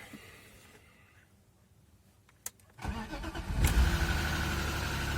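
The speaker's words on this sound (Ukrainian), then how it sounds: "Ух, заторохотіли всі гідрокомпенсатори сразу." A BMW M50B25 engine cranks after a quiet lead-in and catches, then settles into a loud, busy idle with a rapid metallic clatter of ticking hydraulic lifters close by.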